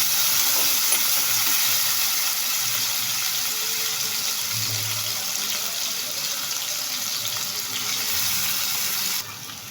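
Potato pieces frying in a pan until reddish for sabudana khichdi give a steady, even sizzle that runs close and continuous throughout, with no voices.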